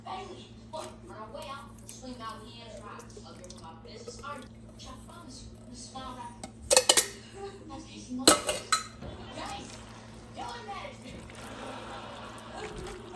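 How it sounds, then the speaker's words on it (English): A spoon works through a heavy pot of homemade chili with diced tomatoes, producing scattered metallic clinks and two louder knocks against the pot while a person talks throughout. "this is gonna be really hard to stir"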